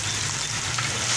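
Saag greens dropped into a hot pan of lightly browned garlic and ginger, giving a steady, close broadband sizzle that holds evenly throughout with no talking.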